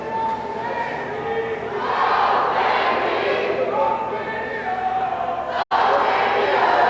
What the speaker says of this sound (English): that has gotten the Bishop Stang crowd